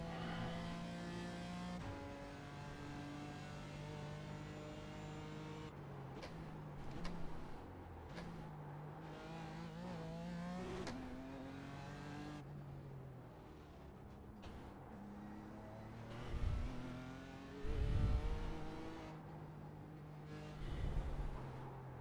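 A BMW M4 GT4 race car in a racing game at Belle Isle, its engine revving up and down through gear changes, with throttle lifts and braking dips before climbing again, steady and close with no speech.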